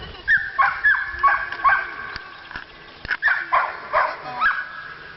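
Young puppies on their first outing outdoors yip and whimper in a string of high, rising cries, close by, with a few soft clicks and pauses between the calls.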